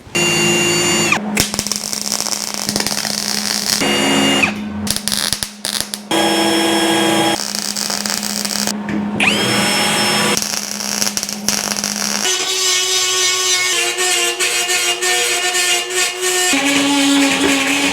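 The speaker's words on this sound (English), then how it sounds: "what I'm gonna do is come through with a drill bit and just clean out all of the area that I'll be spot welding into" A drill biting into the sheet metal of a 1953 GMC cab to clear old spot weld areas, loud whining bursts that start and stop, with changing pitch as the bit loads and frees, close up throughout.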